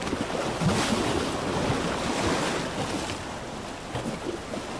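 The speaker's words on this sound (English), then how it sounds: "Outside the cave, the waves crashed, sending tons of rushing water inside." Ocean waves crash and rush outside a sea cave, a continuous broad wash of surf and water with gusts of wind noise, moderately loud and steady with slight swells, no voices.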